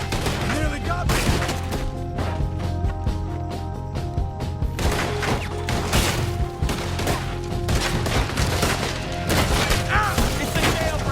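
A jailbreak gunfight in the video game Red Dead Redemption 2: dense, overlapping gunshots and booms crackling steadily throughout, mixed with a tense musical score and occasional shouted voices.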